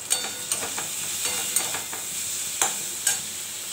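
Dal with a pinch of sugar stirred in a hot pan, sharp spatula scrapes and clacks landing roughly every half second over a continuous bright sizzle.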